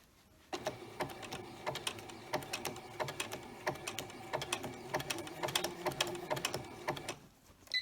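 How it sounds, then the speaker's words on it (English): A sewing machine back stitches on a batik leaf quilt, giving a close run of rapid, regular clicking stitches that starts abruptly and carries on steadily. "I'm going to back stitch."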